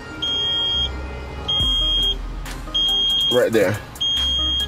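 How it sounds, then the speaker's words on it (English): Climate control in a 2012 Hyundai Veloster with a failing knob beeps in repeated high-pitched tones inside the car, starting and stopping irregularly while someone talks over it. "I don't know why this thing's beeping"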